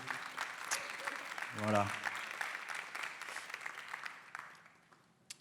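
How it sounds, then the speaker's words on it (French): A round-table audience at a French event on culture in third places applauds itself, a steady broadband patter of clapping under a brief spoken word, fading toward the end. "je pense qu'on peut s'applaudir et"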